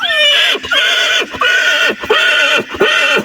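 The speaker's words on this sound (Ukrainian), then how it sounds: "Зараз кобила прийде, ще лошак." A horse neighs loudly and repeatedly, a series of shrill, wavering whinnies in quick succession, close by and without any talking, with a stallion, mare and foal present.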